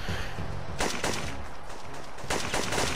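Gunfire in the video game Syphon Filter 2: several loud, sharp bursts of shots in quick succession over a steady game background, with no talk.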